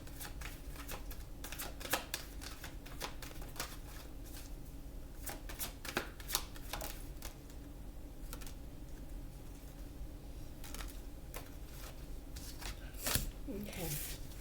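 Oracle cards are shuffled over and over in a soft, rapid riffling patter that runs the whole time, close and fairly quiet.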